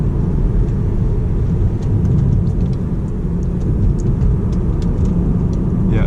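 A Tesla Model 3 Long Range with Acceleration Boost pulls away hard, giving a loud continuous low rumble of road and tire noise inside the cabin, with no talking.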